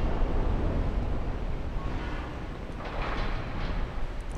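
A heavy door in the Dark Souls 2 game grinds slowly open, a low continuous rumbling scrape that runs throughout with a faint rattle near the end, no one speaking.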